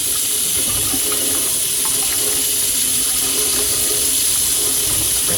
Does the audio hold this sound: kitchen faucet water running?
yes